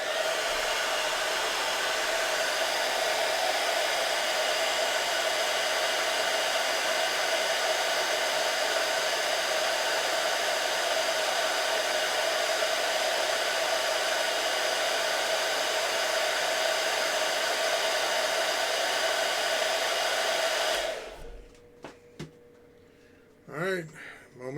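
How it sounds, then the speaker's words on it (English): A hair dryer blows steadily on a painting for about twenty seconds, a loud continuous whir that cuts off abruptly, leaving brief quiet handling noises. "We're going to hit it with the hairdryer."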